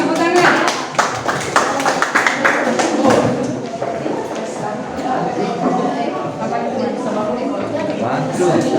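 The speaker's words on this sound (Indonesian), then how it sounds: "Tepuk tangan." Students in an Indonesian language class clap together in a classroom, a burst of close, sharp handclaps at the start that thins into scattered claps under murmuring voices.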